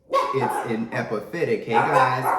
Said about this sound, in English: excuse me guys, you gotta excuse my dogs,